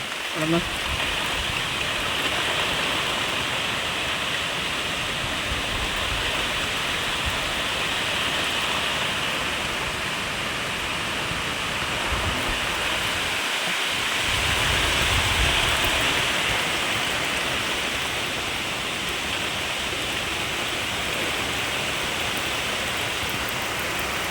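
Steady rain pours onto a garden on a rainy day, a dense, even hiss that holds for the whole stretch with only slight swells, and no voices.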